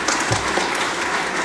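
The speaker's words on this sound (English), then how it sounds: "let's give them a round of applause." Applause from a press-conference audience for a Mercer football coaching staff, a steady, dense clatter of clapping that fills the short moment at moderate volume without any talking.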